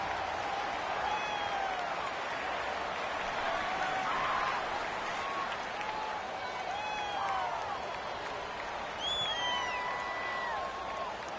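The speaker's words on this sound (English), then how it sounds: "the crowd getting into it as we come up on a big third down" Football stadium crowd during an NFL game against the Redskins, a broad steady roar of cheering and whooping with scattered whistles, continuous through the stretch with a commentator talking over it.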